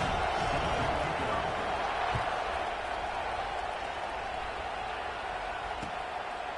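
A college football stadium crowd at a homecoming game buzzes in a dense, steady roar, loud and unbroken throughout.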